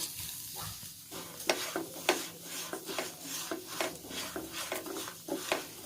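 Brown sugar melting in a saucepan for caramel, stirred with steady, rhythmic scraping strokes over a soft sizzle, close and moderately loud with no talking.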